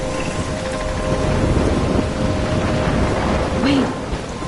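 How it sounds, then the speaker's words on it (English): Thunderstorm with rain in the video game Life is Strange: dense steady rainfall and a deep rolling rumble of thunder that swells through the middle, with faint tonal game sounds beneath. "I'm trapped in a storm?"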